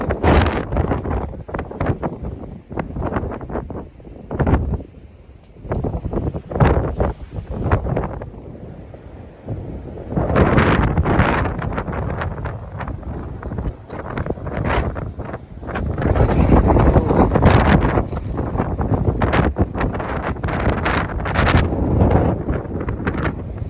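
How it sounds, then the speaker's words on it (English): Gusty wind buffets the microphone on an exposed mountain bald along a trail, loud irregular roaring blasts rising and falling throughout, with a few calmer gaps between strong gusts. "I'm sure you can hear the wind."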